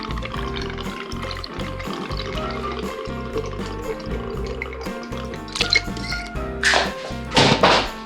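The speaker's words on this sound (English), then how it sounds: "And then we're gonna pour in the Bacardi." Bacardi rum is poured into a blender for a frozen mango daiquiri, a steady close liquid pour against background music, ending in a few louder splashy knocks.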